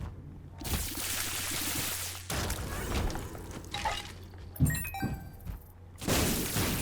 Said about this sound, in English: really just one volley of shots from every single one of these rooms